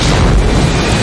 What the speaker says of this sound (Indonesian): pesawat mereka meledak